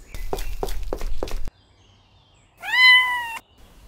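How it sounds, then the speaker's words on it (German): An injured cat bleeding from the leg and having trouble breathing, at a veterinary family's home, gives one clear, drawn-out meow close by, preceded by a few rhythmic thumps like footsteps. "Die Katze ist da!"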